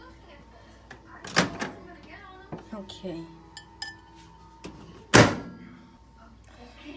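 A microwave oven door is handled in a home kitchen, with sharp clunks and latch clicks, one louder slam near the end, and smaller clinks between them, while a person speaks briefly.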